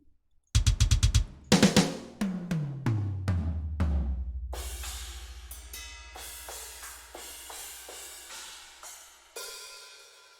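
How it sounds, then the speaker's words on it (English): A sampled drum kit built with Punchy Super Kit shells plays a metal-style pattern: sharp hits, then a tom fill stepping down in pitch, then ringing crashes and cymbal strikes that decay one after another, with no voices. "is my drum kit. Sounds very nice if I do say so myself."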